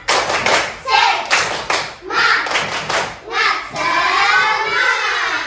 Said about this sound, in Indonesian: marilah dulu kita lakukan tepuk semangat